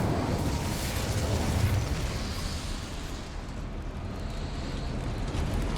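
Incendio fire spell cast in Hogwarts Legacy, a steady roaring whoosh of flame with crackling bursts, loud and sustained for several seconds with no talking.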